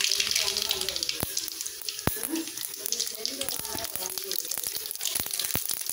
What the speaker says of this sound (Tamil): கடுகு போட்டுக்கலாம்.